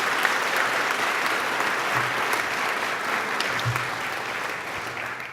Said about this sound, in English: Please give Robin and Janet a warm round of applause.